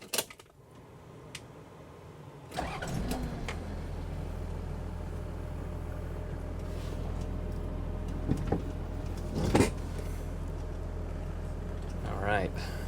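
A Toyota Land Cruiser 80 Series engine cranks with a sharp burst, then catches and settles into a steady low idle rumble, with clicks and clunks and someone talking over it.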